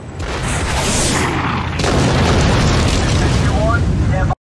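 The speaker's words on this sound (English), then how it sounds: "look at the size of the explosion" A large explosion in the TV war series Generation Kill, a loud sustained boom and rumble filling the whole stretch with a second surge midway, under dense battle noise.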